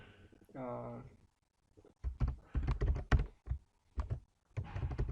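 An SQL ALTER TABLE query is typed on a computer keyboard in clustered bursts of close, sharp keystrokes with short pauses, after a brief spoken voice at the start.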